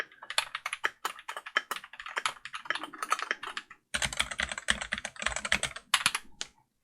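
Fingers type on a custom KBD67 v3 mechanical keyboard, close up and alone, a quick uneven run of crisp clacks with a short pause partway through and some rattle from the keys.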